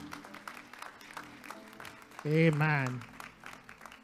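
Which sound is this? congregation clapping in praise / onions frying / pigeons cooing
congregation clapping in praise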